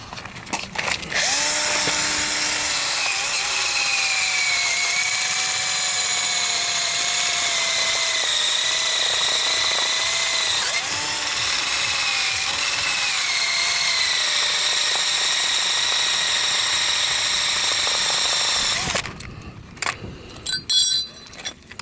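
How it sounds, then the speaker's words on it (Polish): A power drill spins a wire brush continuously for nearly twenty seconds, loud and close, its whine wavering in pitch as it grinds rust off metal on a Polonez car. "Więc szczota, wiertara i działamy"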